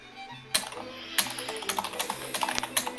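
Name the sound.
loud typing on a computer keyboard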